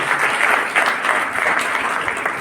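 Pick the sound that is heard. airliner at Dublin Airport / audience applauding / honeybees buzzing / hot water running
audience applauding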